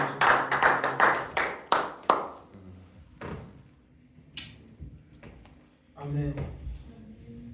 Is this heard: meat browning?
no